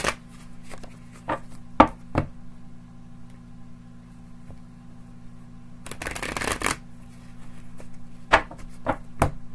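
A deck of tarot cards is riffled in two bursts, each a brief papery flutter, close and fairly quiet against a steady low hum and a few scattered taps.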